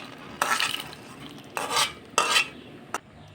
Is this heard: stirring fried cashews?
yes